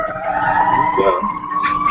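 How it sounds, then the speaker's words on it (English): Emergency vehicle sirens wail in Chicago, a loud, sustained wavering tone that dominates with faint traffic rumble underneath. "Someone's got some sirens and Bella."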